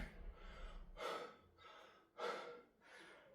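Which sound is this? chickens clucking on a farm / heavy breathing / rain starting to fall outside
heavy breathing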